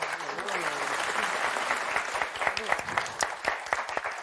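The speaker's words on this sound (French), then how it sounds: "Patricia, Jackie, on vous applaudit très fort." A television game show crowd applauds steadily, a dense wash of clapping with a few sharper claps standing out near the end.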